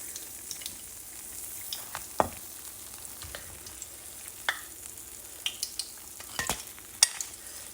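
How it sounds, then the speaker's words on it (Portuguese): Churros sizzle in hot oil with a steady frying hiss and scattered sharp pops and crackles. No one speaks. "fazer a próxima fritura"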